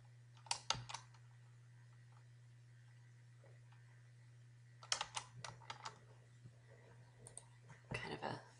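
Sparse, faint keyboard taps in short clusters as text is erased and retyped on a computer, separated by quiet pauses over a steady low hum.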